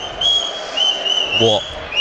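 At a football match, someone whistles a wavering, sustained tune with sliding pitch, moderately loud, as a voice briefly speaks over it.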